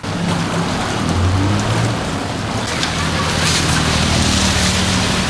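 Heavy rain pouring down during flooding in Douala, a loud dense steady hiss of water with a faint low rumble beneath, constant throughout.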